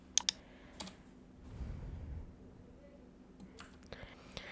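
A few soft clicks and taps on a computer keyboard, quiet and sparse against a low background hum, with a brief muffled rustle in the middle.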